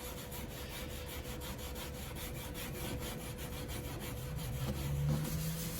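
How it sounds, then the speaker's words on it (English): Steady close scrubbing on the plastic casing of a Sanyo DS13SPJ 13-inch CRT TV as paint is rubbed off after a pre-soak, a continuous rasping rub with even loudness and no voices. "Start to scrub a little bit"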